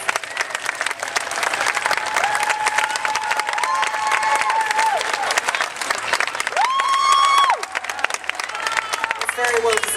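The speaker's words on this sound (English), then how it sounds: "So I'd really like you to give yourselves a huge round of applause." A rally crowd outside Parliament House in Adelaide gives a sustained round of applause, dense clapping and a few cheers filling the whole stretch while a voice carries over the top.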